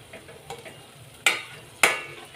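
A spoon stirs coconut spice paste (vatan) in a pan for tomato saar, giving soft scraping and a faint sizzle, with two sharper knocks against the pan.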